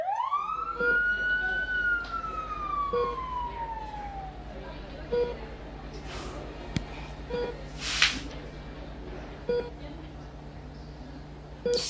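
An ambulance siren wails in a single long rising then slowly falling sweep, loud at first and fading, followed by scattered thumps and a short burst of noise.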